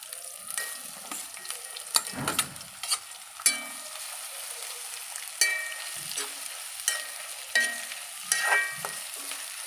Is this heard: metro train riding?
no